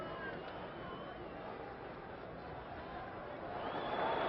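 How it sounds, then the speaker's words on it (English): Boxing crowd at Madison Square Garden during a Floyd Patterson heavyweight bout, a dense murmuring roar that swells louder toward the end, heard beneath a commentator talking. "There's a tremendous crowd here tonight, and a tremendously excited crowd."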